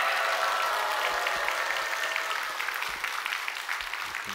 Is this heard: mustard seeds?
no